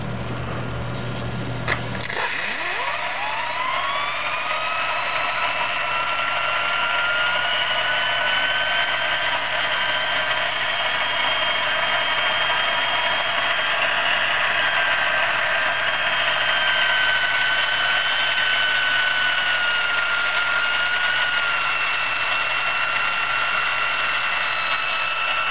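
A Wilesco T90 toy steam turbine spins up with a sudden rush of steam, settling into a steady high whine with rising tonal harmonics while it drives a small generator, continuous and close for the whole stretch.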